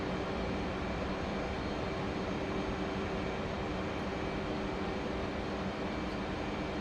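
Fighter jet engine in DCS World building airspeed: a steady broadband roar with a faint high whine, continuous and even throughout with no voices.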